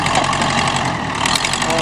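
A Ford tractor engine runs loudly and continuously on a farm, with a rough, rumbling drone under loud voices.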